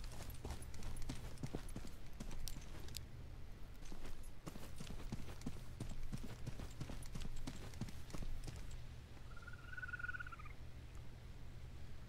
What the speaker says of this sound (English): I thought I heard footsteps.